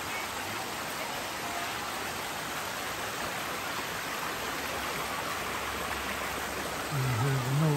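Water at Nagpana Falls in Barotac Viejo, Iloilo, a steady broadband rush of falling and flowing stream water that holds even throughout, with a low rumble coming in near the end.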